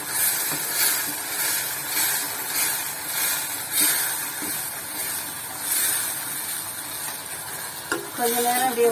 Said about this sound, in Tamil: கொஞ்ச நேரம் அப்படியே வதங்கட்டும்.